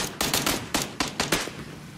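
A rapid burst of gunfire in the video game PUBG, about eight sharp shots in quick succession over a second and a half, close and punchy, then a fading echo.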